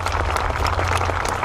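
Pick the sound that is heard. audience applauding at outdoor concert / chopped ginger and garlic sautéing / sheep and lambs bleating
audience applauding at outdoor concert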